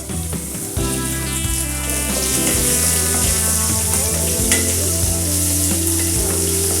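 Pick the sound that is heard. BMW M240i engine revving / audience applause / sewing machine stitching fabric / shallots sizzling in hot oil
shallots sizzling in hot oil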